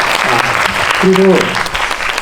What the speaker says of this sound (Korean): 오늘 감독님, 배우분들, 수고하신 분들에게 큰 박수 부탁드리겠습니다